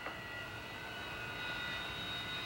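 A-4 and F-4 jet engines run on an aircraft carrier flight deck, giving a steady, loud broadband roar with a whining high-pitched tone on top, continuous throughout with no voices.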